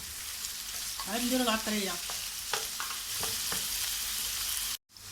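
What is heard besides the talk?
kefta meatballs frying and being stirred with onion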